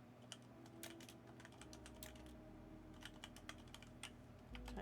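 Rapid clicking keystrokes on a computer keyboard come in irregular bursts over a low steady hum, close and fairly quiet, with no one speaking.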